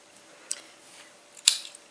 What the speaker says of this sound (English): You can cut your yarn